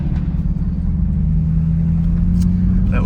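Corvette E-Ray with AWE Track exhaust cruising at low speed, a steady deep exhaust rumble with a faint hum, loud and close, no voices.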